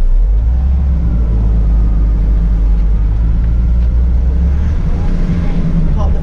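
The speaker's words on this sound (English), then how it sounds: "you just get the engine started up. There we go." A Nissan Cabstar 35.13 truck's heavy diesel engine rumbles steadily at idle just after starting, a loud low-pitched drone that stays constant throughout.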